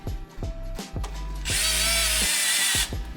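A power driver drives screws into a soft TPU part while assembling an SSP Beetle kit. A few short ratcheting clicks are followed by a loud, steady whir that lasts over a second, then more clicks. No one speaks.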